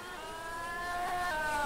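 Formula 1 race car in a video game on a qualifying lap at Brazil, a high-pitched engine whine climbing steadily as it accelerates, moderately loud and alone.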